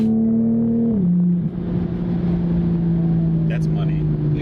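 A Toyota A90 Supra with an RK Titanium 4-inch single exhaust idles loud and close with a deep, steady drone, and its pitch dips slightly as the engine settles.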